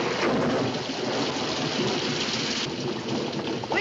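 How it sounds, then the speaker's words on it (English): Heavy rain pours steadily while thunder rumbles through it, a dense, loud wash of sound with no voices. "We can't go much further in this rain."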